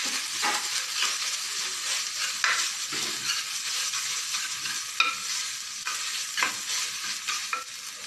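Continuous sizzling of cumin and spices frying in a hot pan for rasam, with occasional scraping and stirring clicks from a utensil, close and steady, no voices.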